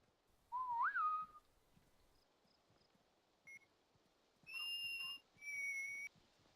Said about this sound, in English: That was me whistling, yep.